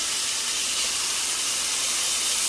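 Golden-brown chicken just turned over in a hot pan sizzles with a loud, steady, close hiss that holds level throughout.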